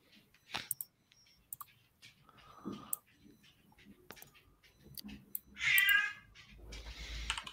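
A house cat gives a short, clear meow close to the microphone, amid sparse clicks and keyboard taps in a quiet room, followed by a brief rustle.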